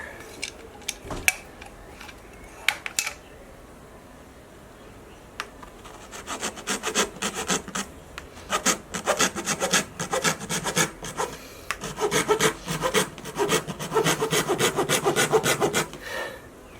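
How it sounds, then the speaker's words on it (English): A bare hacksaw blade rasps against the inside of a calabash gourd, starting with a few sparse scrapes and then settling into steady, rapid rhythmic strokes that are close and fairly loud. "Take the blade off a hacksaw and follow the inside."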